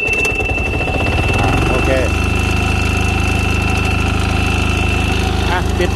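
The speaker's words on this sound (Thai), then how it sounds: "ลองสตาร์ทดู นี่เราดึงกระตุกนะครับ" Old Yanmar diesel engine on a walk-behind straw baler fires up after a pull start and settles into a loud, steady idle with a rhythmic chugging throb, while someone speaks briefly.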